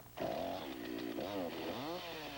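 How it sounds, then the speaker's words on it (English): A gas-powered chainsaw carves logs and tree stumps, its engine droning loud and near, rising and falling in pitch as the throttle revs up and down. "With a gas-powered chainsaw and tons of talent, Rick is doing for logs and tree stumps what"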